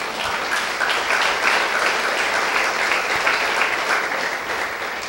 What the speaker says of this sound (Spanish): ¿Cuántos aplauden al Eterno?